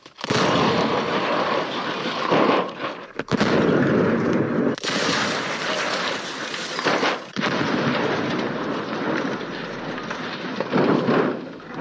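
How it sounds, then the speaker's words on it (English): Grenade blast inside a vending machine in a video game: a loud, sustained explosive roar fills the scene, broken by a few abrupt cuts and renewed bursts, with no talking. "Let's see if we can get some free sodas using a grenade inside the vending machine."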